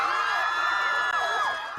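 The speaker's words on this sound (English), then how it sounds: "Jimin and Jungkook saluting a cheering crowd" Adoring BTS Army fans cheer and scream as Jimin and Jungkook of the K-pop group salute after military discharge; a busy wash of high, overlapping voices with rising shrieks, fading slightly near the end.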